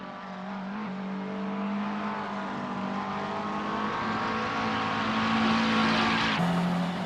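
McLaren 650 race car in Assetto Corsa, its engine droning steadily and climbing slowly in pitch under acceleration, loud and continuous, ending with a sharp upshift near the end.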